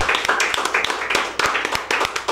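Close, sharp hand clapping from a small studio audience for a music group, irregular and uneven claps over a couple of seconds.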